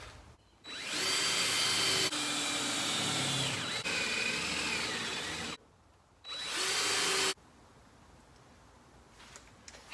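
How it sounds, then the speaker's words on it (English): A power drill whines in long bursts drilling out spot welds on a small engine, stopping briefly between them, loud and close with no talking. "I might just drill those out"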